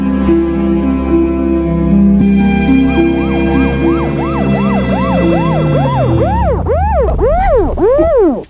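A loud, close police siren wails steadily, then shifts into a fast rising-and-falling yelp that repeats in quick cycles until it cuts off.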